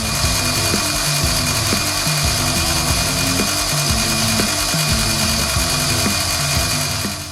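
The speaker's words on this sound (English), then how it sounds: "Once cut, I bring them to the final size with a bench grinder." A bench grinder runs continuously and loudly while tubing spacers are pressed against the wheel in repeated bursts of grinding contact.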